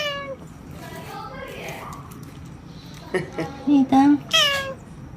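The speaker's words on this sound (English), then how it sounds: "So cute cat." A cat lets out several clear meows near the end, preceded by fainter mews, while people talk and exclaim over it in a household setting.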